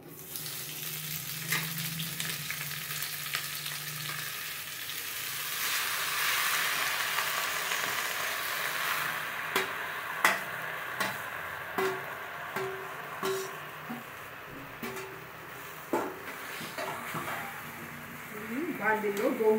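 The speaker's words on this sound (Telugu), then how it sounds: "ఇప్పుడు మనం ఈ బాండిల్లో ఇప్పుడు గోంగూర వేసుకుందాం" Gongura leaves frying in a little oil in a pan, a steady soft sizzle running throughout with occasional stirring clicks and scrapes; a voice talks over part of it.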